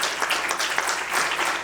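An audience at a talk by an admiral at a New Hampshire gathering bursts into applause, a full, even spatter of many hands clapping close and loud throughout, with no voices over it.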